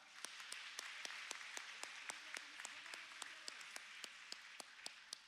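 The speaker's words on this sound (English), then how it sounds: "Please a big round of applause for Zarif Aminyar." A crowd claps for an honoree being welcomed at a ceremony, the sound low and far off: a continuous even rustle of many hands, punctuated by a regular series of crisp louder claps from someone nearer, with no voices.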